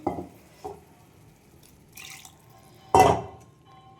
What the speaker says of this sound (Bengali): ওই মশলা ধোয়া আর দুধ ধোয়া জলটা দিয়ে দিলাম